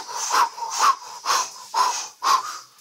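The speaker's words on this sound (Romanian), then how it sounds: "Încearcă să te hiperventilezi. Respira așa." Rapid hyperventilating breaths, about five quick, loud, regular in-and-out gusts of air close to the microphone, each a sharp rushing puff with no speech between them.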